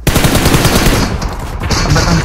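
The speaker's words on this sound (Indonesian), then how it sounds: "Tembak dah, tembak mereka lagi." Rapid automatic gunfire in the battle royale game PUBG, loud and close, with dense bursts of shots continuing across the whole moment.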